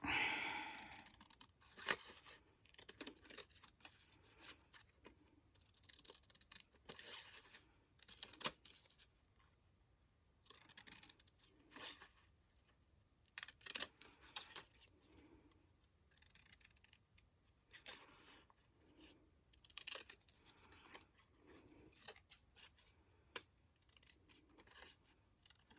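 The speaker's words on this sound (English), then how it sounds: "so I thought we'd fussy cut it." Scissors snip repeatedly through paper while fussy cutting around a small printed tree, a close series of crisp, irregular cuts with brief pauses and faint paper rustling, no talking.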